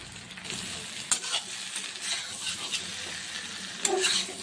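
Vegetables sauté in a pan with garam masala powder and biryani masala for a veg biryani. Steady sizzling runs throughout, broken by a few sharp scraping stirs, with no talking.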